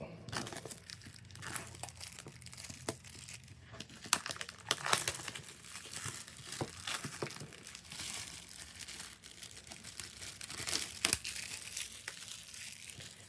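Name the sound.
tearing open the Huawei watch box packaging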